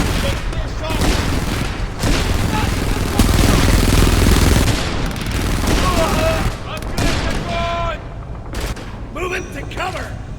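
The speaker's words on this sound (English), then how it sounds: "We're taking fire!" Gunfire in the shooter game Frontlines: Fuel of War: dense, continuous bursts of automatic fire and booms, loud and close, with voices shouting over the battle.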